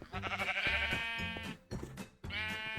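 Sheep bleating in a video game, several wavering harmonic bleats in close succession, loud and near, with a short gap before a final bleat.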